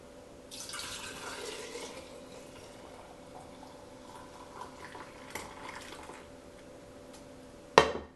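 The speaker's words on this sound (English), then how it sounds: "So I'm just going to finish filling up these jars." Milk being poured into jars for homemade yogurt makes a soft liquid pouring and trickling sound, faint and close, with a few small clinks and a sharper glass knock at the end.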